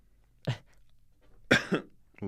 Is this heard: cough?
yes